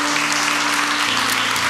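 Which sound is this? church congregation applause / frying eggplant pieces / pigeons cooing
church congregation applause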